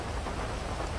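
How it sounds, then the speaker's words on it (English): Rain pours outside, a constant loud hiss of drops striking surfaces with a faint low rumble underneath, unbroken and without speech. "Oh, and it's raining again."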